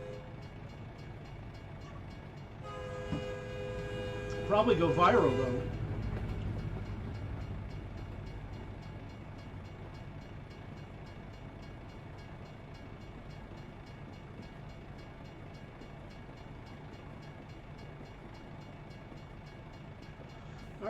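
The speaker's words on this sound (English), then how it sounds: "we're not going to get tangled up with a train" A train passes at a crossing in a truck driving game, its horn sounding in a loud burst early on before the rolling rumble fades into steady engine drone; a voice speaks briefly.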